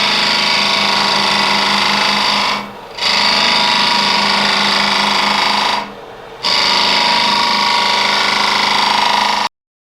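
A wood lathe spins a birch root burl while a boring bar hollows out its inside, giving a loud, close, steady motor hum with a faint rhythmic cutting whir and two brief dips where the cut stops.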